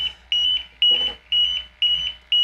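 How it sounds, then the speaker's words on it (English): Portable gas detectors, a MultiRAE and an Altair 5X, sounding a high alarm: loud, piercing electronic beeps in a steady repeating pattern of about five bursts over a couple of seconds, with a brief low rustle between. "I have to hit the reset button on my Altair 5X just to let it know that I've acknowledged that high alarm"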